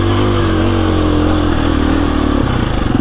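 A KTM EXC-F 350 dirt bike engine revving loud and close, a steady throbbing drone that climbs slightly in pitch near the end, with no talking.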